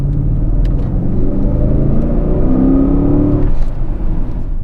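Mercedes-AMG GLE 63 S Coupe climbing a steep hill in Vancouver, its engine giving a loud continuous throaty rumble heard from the cabin as it pulls hard and the revs rise, with no talking.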